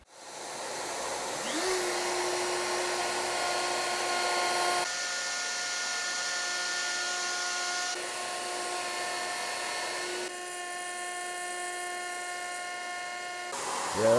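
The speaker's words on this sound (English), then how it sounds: "So we're gonna fire up the router." A router with a carbide compression spiral bit whines up to a steady high-pitched scream while cleaning the edge of a rosewood set-neck Telecaster guitar body. The tone shifts slightly as it cuts, loud and close throughout.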